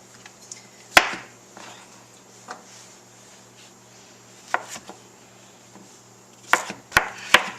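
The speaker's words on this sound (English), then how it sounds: "So I'm just going to kind of rough chop these." Squash rough-chopped with a knife on a board for roasted vegetables, a few sharp isolated chops spaced irregularly, with a cluster near the end, close and fairly loud against a quiet kitchen.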